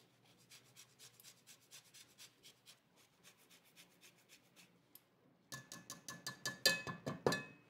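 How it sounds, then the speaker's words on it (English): A whole orange is zested into a pot, making soft rhythmic rasping strokes at first. The scraping then grows louder and faster as the zesting continues, close by and with no one talking. "I am going to zest one whole orange straight into this pot."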